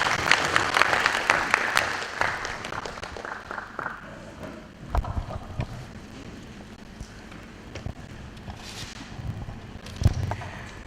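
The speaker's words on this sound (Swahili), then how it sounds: "Naomba tumpigie makofi kidogo." Audience applause at a Global G.A.P. agricultural event in Tanzania, a loud burst of clapping from a crowd that gradually thins, followed by scattered claps and some room noise.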